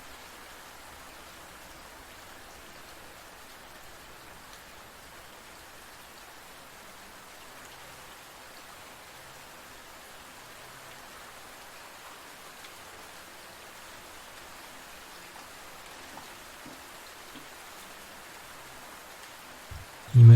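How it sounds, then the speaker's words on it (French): Steady rain falling in an even, unbroken hiss, moderately loud and constant throughout, with no voices and only a faint knock at the very end. "concentrez-vous sur le rythme simple et répétitif de la pluie qui tombe"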